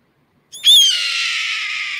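A red-tailed hawk gives a single harsh, drawn-out descending scream, loud and close, rising abruptly and holding for over a second with a raspy, hissing edge.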